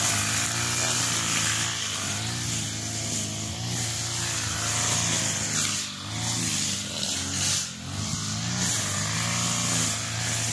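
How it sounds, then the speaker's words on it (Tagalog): A motor grass cutter trimming dry grass on a hot-season plot, its engine droning loud and steady with a buzzing whine that wavers slightly as the blade bites. "nag-umpisa pa lang mag-grass cut"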